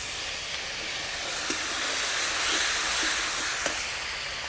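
Spiced meat masala of ginger-garlic paste, chopped tomato, chili and turmeric powder sizzles in a pan after a splash of water, a steady close hiss of steam with a few faint pops and clinks, no talking.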